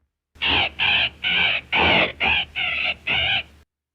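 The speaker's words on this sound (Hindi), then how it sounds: "और ये तोता क्यों चीखें मार रहा है?" A parrot in a 1933 Hindi fantasy film screeches in seven loud, harsh, evenly spaced calls, each about a third of a second long, close and alone with no talk.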